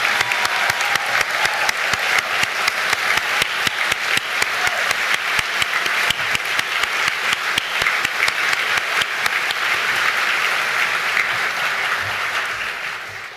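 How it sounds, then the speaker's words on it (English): Crowd at a graduation ceremony giving the class of 2023 a final round of applause, sustained dense clapping close and loud, tapering off at the very end. "Can we get one last round of applause for the graduating class of 2023?"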